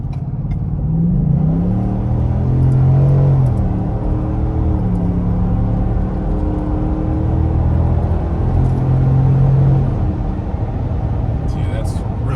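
2021 Roush F-150 pickup truck pulling onto a highway, its engine and exhaust rumbling steadily and rising in pitch through gear changes, with a person talking over the cabin noise throughout.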